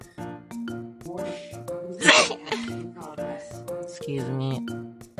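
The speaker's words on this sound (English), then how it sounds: "I had to sneeze." A person sneezes sharply once in the middle of lively voiced talk and vocal sounds, the burst loud and close.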